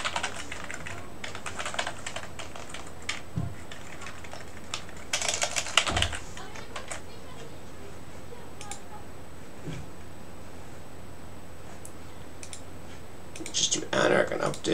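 Computer keyboard typing during a coding session, quiet irregular key clicks in bursts with pauses, a louder flurry near the end, over faint background hum.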